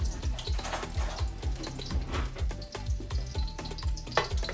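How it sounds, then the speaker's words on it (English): Mashed garlic sizzling in hot oil in a wok for a Trinidad-style bhaji, a steady crackling fry with repeated scraping stirs, close and continuous, no talking. "Let's sizzle around a little bit."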